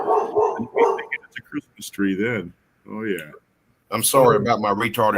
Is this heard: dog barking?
yes